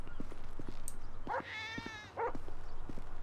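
A cat in the video game GTA V gives two short meows and one longer, drawn-out meow, close and clear, over a steady low game hum with soft ticking steps.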